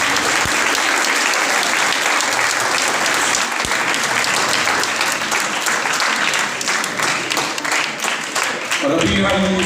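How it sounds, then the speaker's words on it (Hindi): A congregation at a New Year church service breaks into loud, sustained applause, claps crowding together throughout, with brief voices mixed in near the end. "जोरदार तालियां"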